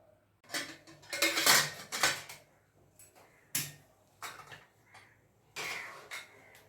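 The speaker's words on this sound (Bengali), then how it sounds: "এই যে বাসনগুলো ধুয়ে নিব এখন" Dishes and utensils clatter and clink in irregular bursts, like pots and plates being washed at a home kitchen sink.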